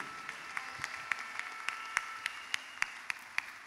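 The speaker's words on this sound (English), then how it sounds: "give the Lord some round of applause once again." A church congregation claps in a steady rhythm, with evenly spaced sharp claps over a dense patter of applause, heard from a moderate distance.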